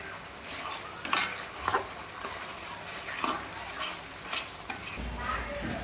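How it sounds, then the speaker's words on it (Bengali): Spice paste being stir-fried (kosha) in a pan, a continuous sizzle broken by repeated scraping strokes of a spatula against the pan, close and fairly loud, no speech. "দেখুন মশলাটা ভালো করে কষায় দিতেছি"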